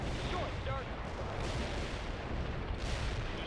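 Airstrike explosions in the video game World in Conflict rumble as a dense, continuous roar of blasts and booming fire, loud and sustained with no clear gaps.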